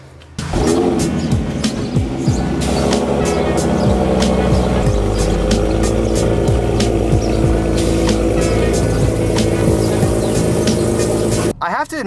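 A Porsche driven hard during street drifting, its engine roaring loud and close in a sustained, rising and falling snarl for nearly the whole stretch before it cuts off abruptly at the end.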